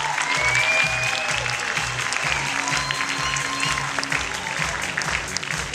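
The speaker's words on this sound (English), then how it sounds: "Big applause for all of them" An audience applauds award contenders at the Child and Youth Finance International Summit awards ceremony in 2012: a steady, dense wash of clapping from a large crowd that carries on for several seconds over a faint low hum in the hall.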